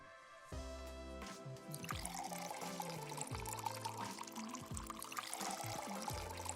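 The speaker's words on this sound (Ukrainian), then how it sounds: "Наливаємо." Milk pours steadily into a glass, the filling tone rising as it goes, close and continuous for several seconds.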